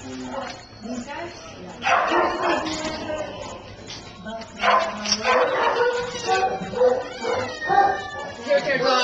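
Dogs in a shelter's isolation area bark, yip and howl in repeated bursts, close and fairly loud, with people talking among them.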